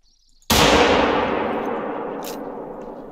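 A single hunting rifle shot fired in theHunter: Call of the Wild, a sharp loud crack that starts abruptly and rings out into a long, slowly fading echo with no other sounds around it.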